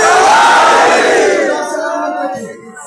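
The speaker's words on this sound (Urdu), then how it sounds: "مل کے نعرہ حیدری" A large crowd shouts the religious slogan "Naara-e-Haidari" in unison, a loud collective roar that swells and then fades over a few seconds.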